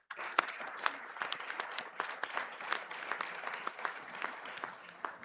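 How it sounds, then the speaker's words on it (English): Audience applause for graduates at the ATU Donegal spring conferring ceremony in a hall. Moderately quiet, scattered hand claps stay sharp and distinct and keep going steadily without speech. "A round of applause, please, for the graduates of the Department of Early Education and Social Studies"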